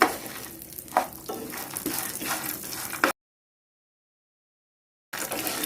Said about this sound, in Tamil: அடுப்பை சிம்மில் வச்சுட்டு வறுத்துக்கோங்க, இல்லைன்னா தீஞ்சு போயிடும்.